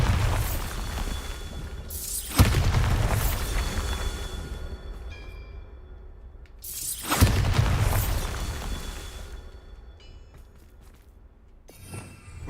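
Bombarda spell blasts in a Harry Potter video game: two loud, booming detonations about five seconds apart, each bursting sharply and then rumbling away into a long fading tail, with no talking.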